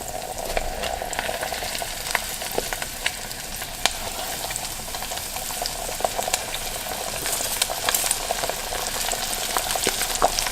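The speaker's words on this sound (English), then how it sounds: "So you don't hear that fry sound as much." Steady crackling and sizzling of flour-dredged chicken pieces frying in hot oil, with scattered pops over a soft continuous hiss, no voices.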